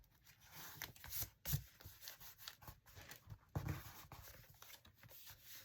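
A glued paper craft piece for an old English bakery scene is rubbed down by hand, giving soft, close scuffing and rustling strokes in an uneven rhythm, faint and with no talking.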